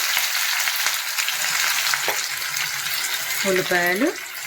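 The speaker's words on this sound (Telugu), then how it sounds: "ఆనియన్స్ బ్రౌన్ కలర్ వచ్చేదాకా ఫ్రై చేసుకోవాలి" Onions and cumin frying in hot oil for mutton keema, a steady close sizzle with a few light scrapes. A voice speaks briefly near the end.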